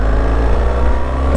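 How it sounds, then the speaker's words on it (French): A BMW 1300 GSA motorcycle engine pulls hard under acceleration, a loud, close, steady low drone with a rough rising edge at the very end. "si la moto est capable de faire des kickdowns quand on veut se dégager alors qu'on est en train de cruiser"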